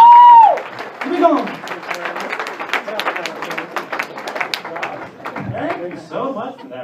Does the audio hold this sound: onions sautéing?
no